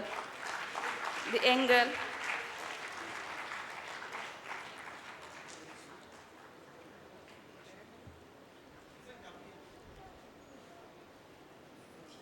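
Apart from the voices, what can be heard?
audience applause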